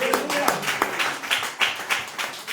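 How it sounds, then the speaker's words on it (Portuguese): A church congregation claps during a sermon, a short run of distinct, fairly rhythmic claps at moderate volume, with some faint voices underneath. "E mais palmas que exaltam o Rei Jesus."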